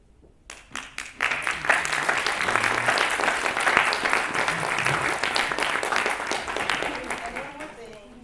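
Audience applause fills a college chapel, a dense, sustained burst of clapping that swells quickly and holds steady before tapering off near the end.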